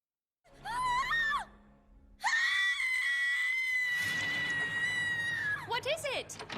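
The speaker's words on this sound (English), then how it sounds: "that is a horror film level scream" Horror-film-level scream from a show played back, a long piercing shriek held for several seconds, preceded by a shorter wailing cry and followed by trailing vocal sounds, loud and close.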